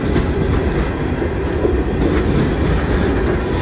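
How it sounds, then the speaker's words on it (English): Norfolk Southern train rolling in from the Frisco rail yard in Illinois, a loud, steady rumble of wheels on track, close and continuous with no talk. "I think that's Norfolk Southern coming in out of that Frisco yard"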